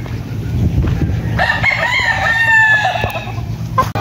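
A rooster crows loudly and close at a small chicken farm, one long drawn-out call, while hens cluck and mutter underneath.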